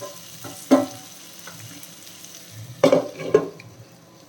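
Chicken and onion with chili powder frying in a pan, with a quiet steady sizzle broken by a few sharp stirring clatters near the start and end.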